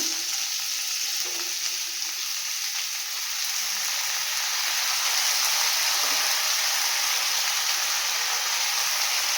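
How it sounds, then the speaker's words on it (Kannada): Continuous loud sizzling of onions and bottle gourd frying in hot oil in a pan, a steady crackling hiss close by with no talking. "ಈಗ ಒಂದು 2ರಿಂದ 3 ನಿಮಿಷ ಫ್ರೈ ಮಾಡ್ಕೊಳ್ಳೋಣ."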